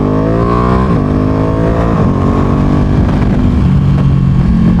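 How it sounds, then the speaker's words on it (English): Italian V10 sports car passing on the road, loud and close, its engine note climbing through gear changes in a steady roaring wail with no talking. "I hope the soundtrack of that Italian V10 came through"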